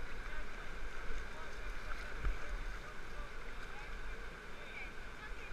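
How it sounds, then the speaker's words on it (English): Paddle strokes push a small boat forward through water, a steady splashing wash with soft dips of the blade, close by and continuous. "Paddle forward nice and easy."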